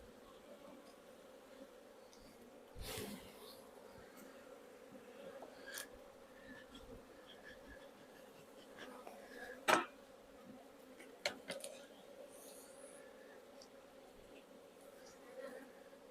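Honey bees buzzing around an open hive that may be queenless and holds emergency cells, a faint steady hum with soft knocks and handling noises now and then.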